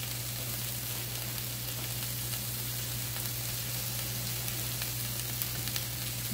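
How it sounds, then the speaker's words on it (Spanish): Oil spread across a hot comal griddle, sizzling in a steady, even hiss that runs unbroken from start to finish, close and moderately loud, with a low hum underneath and no voices. "yo le voy a poner un poquito de aceite aquí al comal"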